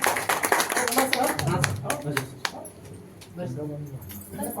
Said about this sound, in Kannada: ಚಪ್ಪಾಳೆಯೊಂದಿಗೆ ಉದ್ಘಾಟನೆಯನ್ನು ಮಾಡಬೇಕಾಗಿ ಕೇಳ್ಕೊತಾ ಇದ್ದೇನೆ